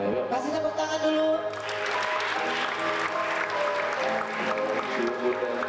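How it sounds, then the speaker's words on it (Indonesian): An audience at an Indonesian entertainment show claps after a prompt from the host. The dense applause swells after a couple of seconds and holds, with tonal sounds and voices mixed underneath. "Kasih tepuk tangan dulu."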